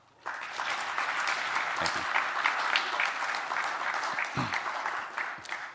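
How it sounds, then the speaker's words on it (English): A graduating class of new officers at a Pentagon Force Protection Agency swearing-in ceremony breaks into a round of applause, a dense sustained clapping that starts abruptly and carries on evenly to the end, with a brief spoken thanks over it. "Class, if you wouldn't mind just showing some gratitude with a round of applause"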